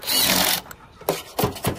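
Power drill driving screws into an inside gutter corner: a close, steady whir of about half a second, then a pause and several short, sharp bursts.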